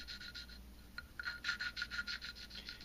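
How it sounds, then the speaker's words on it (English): An engine intake valve being lapped against its seat with grinding compound gives a rough, rhythmic rubbing rasp in quick back-and-forth strokes, close and fairly quiet, with a brief pause before the strokes resume. "When you hear that kind of roughness go away, it's time to put new grinding compound on."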